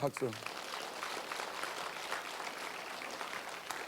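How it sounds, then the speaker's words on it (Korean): A church revival congregation applauds steadily after a voice briefly calls out for it, the clapping continuing evenly at moderate volume. "박수."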